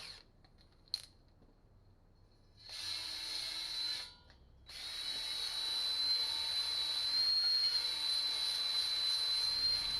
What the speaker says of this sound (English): Let me get my reamer so I can clean this frame out.